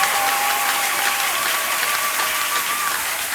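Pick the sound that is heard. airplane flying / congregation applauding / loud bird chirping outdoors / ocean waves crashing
congregation applauding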